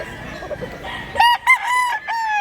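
A two-year-old rooster in Mantalongon, Barili, Cebu crows close and loud, a rising, wavering call broken into segments, after a stretch of faint background noise.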